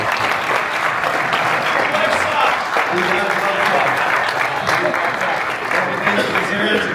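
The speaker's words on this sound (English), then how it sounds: "Round of applause again" A panel audience applauds steadily for several seconds, a dense, even clapping that fills the room, with a brief spoken word over it.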